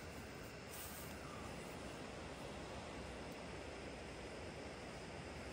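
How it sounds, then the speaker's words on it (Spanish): A strong, swollen river rushes at night in the Michoacán sierra during rain, heard as a loud, steady broadband roar of water filling the whole stretch without a break. "Está con fuerza el río."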